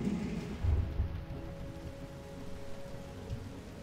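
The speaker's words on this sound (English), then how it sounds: "Because of the heavy rain, dude. It's so heavy." Heavy rain in the video game Heavy Rain, a steady broadband hiss with low rumbling at a moderate level throughout, with no talking.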